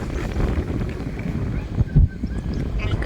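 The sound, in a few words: strong wind blowing into the microphone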